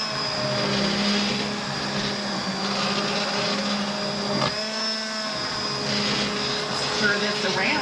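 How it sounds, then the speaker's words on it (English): An immersion blender whirs steadily through tomato soup, a loud continuous motor drone with a brief dip in pitch midway as it churns the pot, while a person talks over it. "this might be my first time to use an immersion blender"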